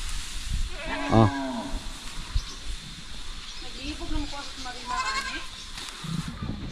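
A goat named Dayan bleats a few times near a farm hut, wavering cries rising over rustling background and scattered voices talking nearby.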